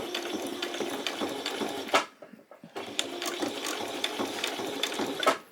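A sewing machine stitches an apron, running in a fast, steady mechanical chatter close by, pausing briefly in the middle before starting again.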